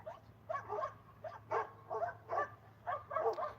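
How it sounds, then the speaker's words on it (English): Several dogs bark repeatedly at a distance, in short irregular bursts of yips and woofs over a low steady hum, with no voices. "Can you hear the dogs in the distance?"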